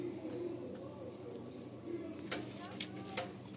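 Pigeons coo softly and repeatedly in a seller's loft in Kolkata, low throaty calls under room noise and brief bursts of voices nearby.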